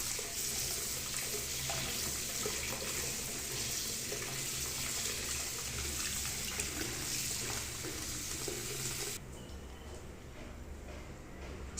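Water runs steadily from a tap while tomato seedling roots are rinsed clean of soil for a simple hydroponic setup, a constant close splashing rush that stops abruptly near the end.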